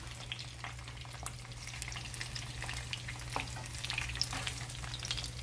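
Onion and cilantro fry in a pan for Mexican taquitos de trompo, giving a soft, steady sizzle and crackle with light stirring, faint and close, and no talk.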